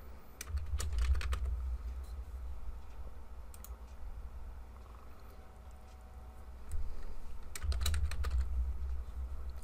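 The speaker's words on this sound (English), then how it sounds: "Can't type and talk at the same time." Bursts of typing on a computer keyboard while setting up a password on a computer, rapid key clicks in two clusters separated by a quieter stretch, close and clear.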